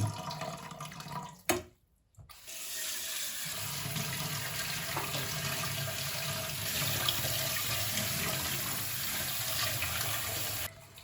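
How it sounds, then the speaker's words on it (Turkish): Rice is rinsed under running tap water, producing a steady close hiss of flowing water after a brief pause. It continues at an even level until it cuts off. "şimdi şu pirincimizi yıkayıp pilavımızı yapalım"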